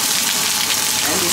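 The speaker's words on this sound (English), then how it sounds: "রাইসগুলোকে high হিটে এখানে fried করা হচ্ছে।" Rice frying on high heat in a wok for chicken fried rice, a loud continuous hiss and sizzle, close and steady for the whole moment.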